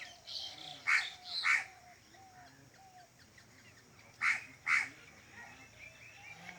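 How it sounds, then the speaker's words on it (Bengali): Crows and other birds call in a home garden: two pairs of loud, harsh caws stand out close by, over a steady background of fainter chirps and whistles. "আমার বাগান বাড়িতে অনেক পাখি আছে। পাখির উপদ্রব খুব,"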